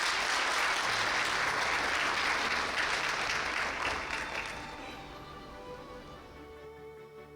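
Large crowd applauding at a university anniversary ceremony, a full, loud burst of clapping that gradually fades into quieter scattered claps and room tone.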